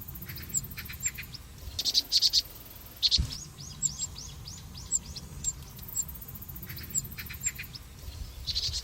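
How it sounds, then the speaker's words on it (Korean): A baby cuckoo calls from a nest that is too small for it, giving short repeated high chirps in a steady pattern over an outdoor backdrop with insect hum. "바로 새끼 뻐꾸기입니다."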